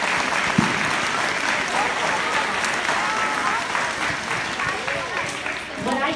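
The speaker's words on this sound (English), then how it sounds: "Can we all give a round of applause to our teachers?" A crowd applauds steadily and loudly, many hands clapping in a dense, continuous wash that barely fades over several seconds.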